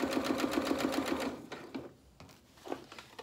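A sewing machine runs a reverse stitch along the underarm seam of a small rabbit doll's shirt: a rapid, even run of close stitching beats for about a second and a half, then it stops, leaving faint handling noises.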